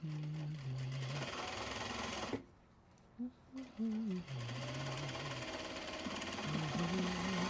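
A sewing machine stitching Japanese fabric bags runs in long steady bursts, pausing briefly midway before starting up again, close and loud, with a voice faintly audible.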